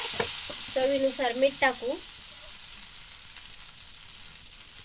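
Leftover bhakri pieces sauté in a pan with a soft, steady frying hiss, while someone speaks briefly early on.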